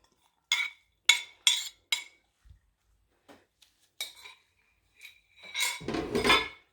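A large bowl handled in a kitchen as about three cups of shredded cabbage go in for cutlets, a run of sharp, close clinks and knocks, then a softer rustling tumble at the end.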